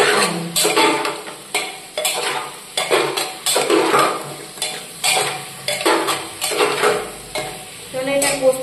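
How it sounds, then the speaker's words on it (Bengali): Pithe is stir-fried in a pan over a high flame, with loud, rhythmic scraping strokes repeating about once a second over a constant close sizzle. "এটাকে একটুখানি হাই ফ্লেম রেখে পিঠেটাকে কষিয়ে নাও, দু চার মিনিট মধ্যে এটাকে কষাতে হবে।"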